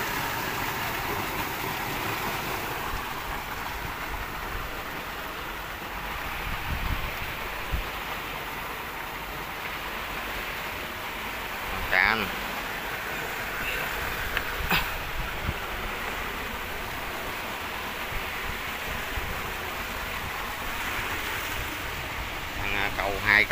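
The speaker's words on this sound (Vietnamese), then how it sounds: "Đây tiếng sóng vỗ." River waves lap softly against a riverbank embankment in Ly Nhon, Can Gio, on a rainy, windy day, a low, fairly quiet wash with small irregular splashes and a few brief sharper knocks.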